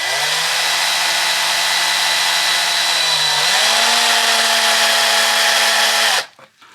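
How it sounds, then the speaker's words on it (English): An electric drill bores out the centre of a small rivet on a 1972 Hacker RP73 radio during a rebuild, whining loud and steady for about six seconds, with its pitch stepping up partway through, then stopping abruptly. "I'll drill the centre out of the little clip here"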